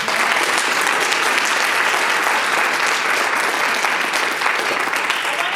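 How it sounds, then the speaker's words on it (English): An audience at a leadership panel on burnout gives a sustained round of applause, dense steady clapping from many hands holding at an even level from start to finish. "can we just give a round of applause for"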